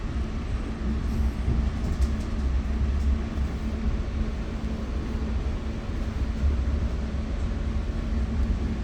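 Steady low rumble and rolling hum inside an exo commuter train running on the Mascouche Line from Central Station in winter, continuous and even throughout with faint high rattles and no talking.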